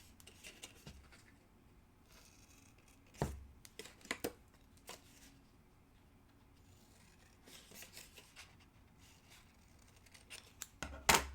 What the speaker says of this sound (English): this little corner piece, we're gonna snip those little pieces out